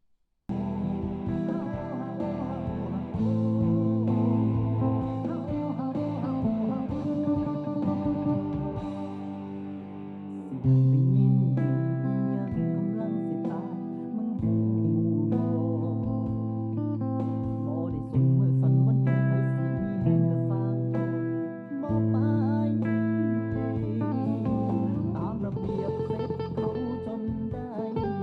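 An electric guitar played with a clean tone through a VST amp plugin preset, ringing chords and single notes rising and falling over about half a minute, steady and fairly quiet, with a short pause near the middle.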